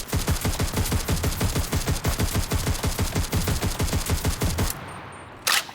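M3 submachine gun firing in the video game Enlisted: a long rapid burst of evenly spaced shots for nearly five seconds, then a short pause and one brief final noise.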